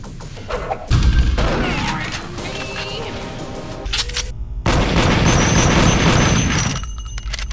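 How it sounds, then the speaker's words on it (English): A pump-action shotgun fires in an N64 first-person shooter, with loud booming blasts, crashing impacts and chaotic combat noise packed into dense bursts that fill nearly the whole stretch. "Pump action animation between shots is a bit jarring, however, as it completely covers your target during combat"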